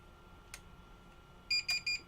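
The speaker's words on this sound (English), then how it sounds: "it should go beep beep" A drone beeps after its compass calibration is finished, giving three short, evenly spaced electronic beeps. The beeps are faint and come out of quiet background noise with one soft click, and no voices are heard.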